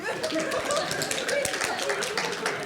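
Audience clapping in a hall, a dense patter of hands going on throughout with some chuckles and a voice speaking over it.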